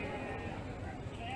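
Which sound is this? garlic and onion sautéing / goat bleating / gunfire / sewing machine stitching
goat bleating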